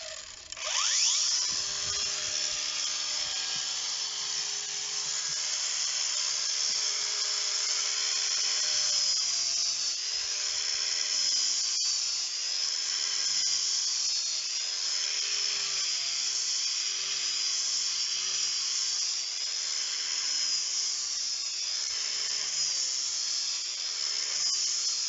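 A cordless 18V grinder spins up with a sharp start, then runs continuously at a high, steady whine for over twenty seconds, with slight wavering as it works.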